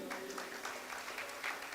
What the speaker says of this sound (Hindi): हाँ, देखिए इनके लिए तालियां बजाइए।